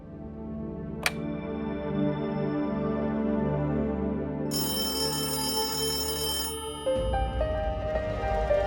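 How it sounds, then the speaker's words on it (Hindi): Phone ringback tone on an outgoing call, repeating electronic ring pulses heard clearly with no talk, ending in a burst of noise. "सिग्नल तो दे दिया है, अब शायद नैना ही फोन उठाएगी।"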